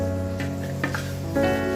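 A paste of ground tomato and onion, four of each, fries in oil with cumin in a pan, giving a continuous close sizzle with a low steady hum and a few light stirring clicks.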